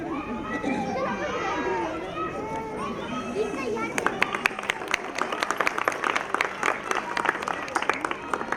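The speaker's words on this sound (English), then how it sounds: "So clap for them" An audience at a kids' school annual day ceremony bursts into clapping for the chief guest, applause starting after a few seconds of children's chatter and continuing as crisp, steady hand claps.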